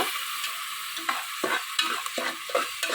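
Spices sizzle and crackle in hot oil while cooking egg biryani, a bright steady frying hiss broken by the scrape of a spoon stirring the pan.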